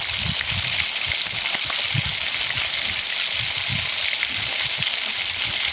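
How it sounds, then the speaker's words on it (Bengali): Pointed gourd (potol) pieces browning in hot oil, a steady dense sizzle and crackle with scattered pops, close and continuous, alone. "বাকি পটলগুলো এভাবে ব্রাউন করে ভেজে নিন"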